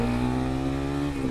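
A modified racing sports motorcycle with an aftermarket exhaust holds a loud, steady, buzzing rev close by, its tone barely shifting before dipping slightly near the end.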